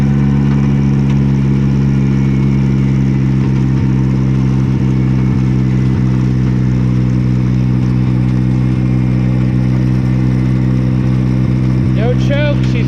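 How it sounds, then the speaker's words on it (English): A Morbark wood chipper's engine, with an old carburetor, runs without choke at a steady loud idle. The deep droning hum holds constant throughout, with a brief voice near the end. "No choke, she's running."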